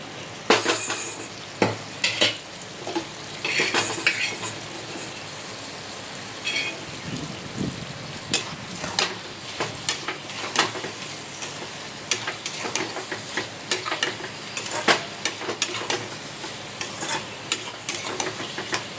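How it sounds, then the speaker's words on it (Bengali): Pre-fried potatoes tossed into a pan of mutton fat with pointed gourd, spoon scraping and stirring steadily over a continuous close sizzle with crackling bursts throughout. "তারপর আমি এই যে আলুটা ছিল ভেজে রেখে দিয়েছিলাম সেটা আমি ছেড়ে দেবো এর মধ্যে"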